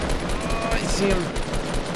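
Gunfire in Fortnite aimed at a plant, a dense steady burst of rapid shots running the whole time, with excited voices mixed in.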